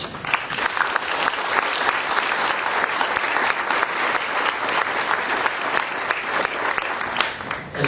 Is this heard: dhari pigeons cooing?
no